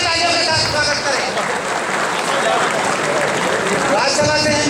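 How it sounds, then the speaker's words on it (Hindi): An audience in Talkatora Stadium, New Delhi, claps to welcome a guest at a political gathering, a broad continuous wash of applause filling the hall, with voices mixed underneath. "जोरदार तालियों के साथ स्वागत करें"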